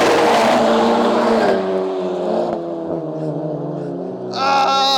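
A 500 hp VW Golf GTI Mk8 Clubsport 45 and a 500 hp Mk7 Edition 40 accelerate hard in a drag race, their engines droning loud and close as the pitch climbs through gear changes, with a voice over them.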